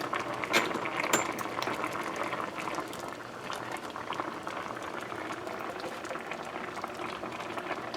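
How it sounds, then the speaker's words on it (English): A pot of breadfruit boiling vigorously, with a constant bubbling and popping of water going on steadily throughout. "So our breadfruit is boiling away."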